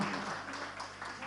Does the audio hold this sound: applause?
yes